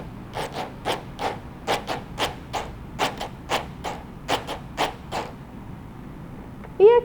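A pen is rubbed or scraped across a notebook, making a series of short, rhythmic rasping strokes close by, about two per second, with a brief squeak at the end.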